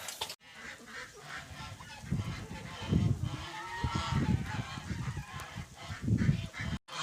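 Geese honking on a small farm at morning feeding time, repeated nasal honks at moderate distance with ducks around, no talk over them.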